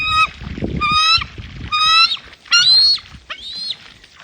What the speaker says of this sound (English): A bald eagle screaming and squawking.